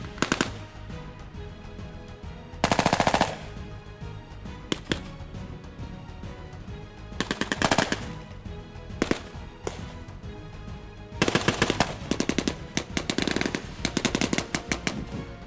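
Machine guns fire in a Gulf War tank battle re-enactment, with a Ferret armoured car laying cover fire: loud rapid bursts, several sustained for a second or more, plus scattered single shots over outdoor rumble.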